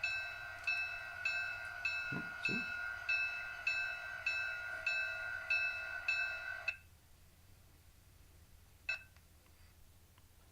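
A model train sound decoder plays a locomotive prime mover hum with a repeating bell ringing in steady rhythm, then both cut out abruptly; a brief beep follows and a voice speaks once near the end.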